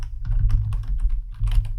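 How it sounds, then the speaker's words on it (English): Rapid, close clicking of computer keyboard keys while code is typed, an uneven burst of keystrokes with a brief pause midway, no speech. "So I can write array.includes"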